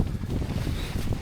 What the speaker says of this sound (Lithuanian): Biški vėjukas kyla šiek tiek